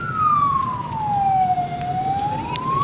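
A fire brigade truck's wailing siren, one long tone gliding down and then back up, sounds fairly loud as it arrives at a vehicle that has burned out on the road, with low traffic rumble underneath and no talking.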